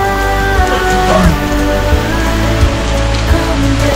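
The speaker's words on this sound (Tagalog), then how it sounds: "Ang ulan pa nga." Steady heavy rain pours continuously, a dense close hiss with occasional louder drips, and no voices.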